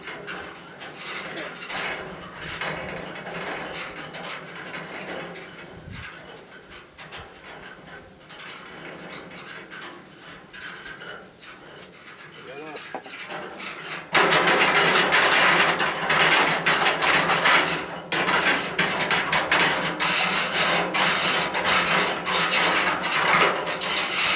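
Chimney brush, smaller than the flue, rattling and scraping around inside a wood stove flue pipe, a continuous close grinding rasp that grows markedly louder partway through.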